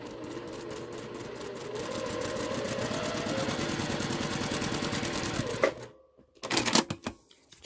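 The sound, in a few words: sewing machine stitching quilt fabric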